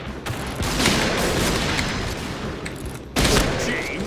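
Heavy sniper rifle fire from the BORA-12 in the shooter game Point Blank, loud dense blasts filling the clip with a sharp fresh report near the end.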